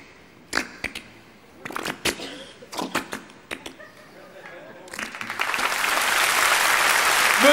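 A live studio audience claps for comedian Fabien Kachev, starting as scattered bursts of claps and swelling into sustained, dense applause over the last few seconds.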